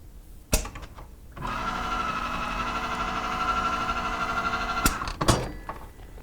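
A Miller Weldmaster T3 Extreme welding machine runs along a seam for about three and a half seconds, a steady whirring mechanical drone, framed by sharp clunks and clicks just before it starts and right after it stops.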